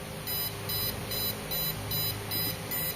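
A small electronic buzzer on a model railway crossing gate beeps in seven short, steady pulses as a servo lowers the barrier, over a faint constant hum.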